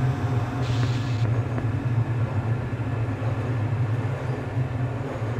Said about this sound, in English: This automated train is provided for the security and convenience of the Black Mesa Research